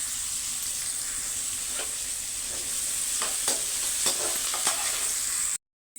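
Tomatoes sautéing in a pan, a continuous close sizzle with scattered sharp pops and light stirring scrapes, alone without talk, cutting off abruptly at the end.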